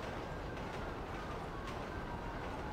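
A train rumbles past in the LSPDFR police video game, a steady, dense roar of wheels and rail noise with faint clicks, continuous throughout without speech.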